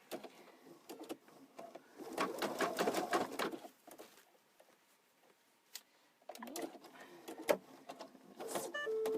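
An embroidery sewing machine stitches a floppy-eared bunny stuffie in fast bursts of rapid mechanical clatter, separated by quiet pauses.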